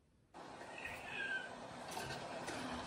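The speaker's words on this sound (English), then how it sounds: "Kiki Rarity is a kitty cat." A house cat meows faintly in a quiet indoor room, a soft drawn-out call that begins after a brief silence.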